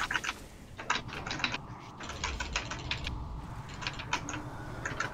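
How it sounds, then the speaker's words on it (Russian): Rapid clattering keystrokes on a gaming keyboard come in quick bursts with short pauses, close and fairly loud over a faint background hum. "Это ты по клаве так хуяришь?"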